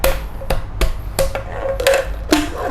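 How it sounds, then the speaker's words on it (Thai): Hammer blows tightening the fitted tube pieces of a homemade stand for a Gotway MSP electric unicycle, about eight sharp knocks in an irregular rhythm, close and fairly loud. "ตอกแน่น ๆครับ"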